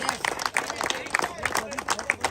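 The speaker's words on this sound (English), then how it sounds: "Can we clap for Jimmy too, please?" Scattered, uneven claps from a small audience honoring Jimmy at a scouting gathering, with crowd murmur and voices talking over them.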